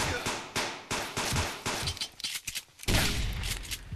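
Rapid gunfire in the survival game Subsistence: a string of sharp, close shots in bursts, a brief lull, then another loud volley.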